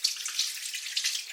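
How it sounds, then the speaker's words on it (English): Warm water runs from a bathroom tap in a thin, steady hiss, faint and close, with small splashes and no talking. "Just got a little bit of warm water on my fingertips"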